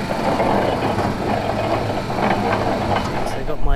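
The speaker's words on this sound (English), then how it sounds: "For now, we'd have to use that generator. It needs to run anyway because I haven't used it for ages. Yeah, it's working." Petrol generator running steadily close by, a loud continuous engine drone with a rough, buzzing texture, with a voice faintly under it.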